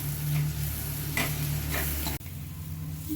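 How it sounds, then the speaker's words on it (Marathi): Onion-garlic masala with a little turmeric is stir-fried in a pan: a constant sizzle with a steady hum and a few scraping strokes of a spoon, then a sudden click near the end. "याला छान आपण परतून घेणार आहोत."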